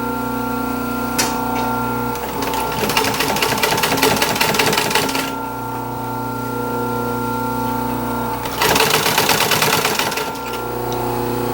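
A sewing machine stitches upholstery fabric for a 1930s Art Deco chair, running in two sustained close, loud bursts of rapid mechanical clatter with a steady motor hum and short pauses between.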